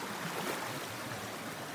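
A stream flows along a waterfall hiking trail in Pai, Thailand, giving a steady, close, broadband rush of running water with no talk.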